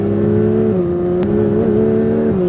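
Porsche 992 GT3 engine accelerating hard on a hot day, a loud, steady high-revving howl heard from close by with brief dips and rises in pitch as gears change, no talk.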